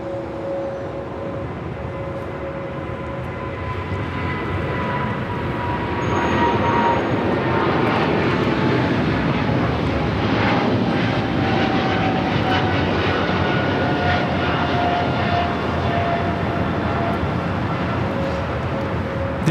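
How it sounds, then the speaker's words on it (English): Japan Airlines Boeing 777-300ER taking off at Los Angeles airport, a powerful sustained engine roar with whining tones that builds and holds loud, close by. "This is Japan Airlines Flight 15 taking off to Tokyo Haneda on the 777-300ER"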